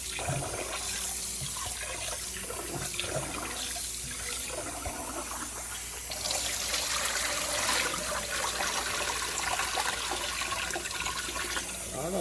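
Tap water runs steadily while raw chicken is rinsed by hand at a kitchen sink, a continuous splashing flow that grows fuller and brighter about halfway through.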